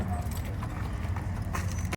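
A mare being trained walks on hard ground, her hooves clip-clopping in a quick, regular rhythm close by. Faint background noise sits under the steps.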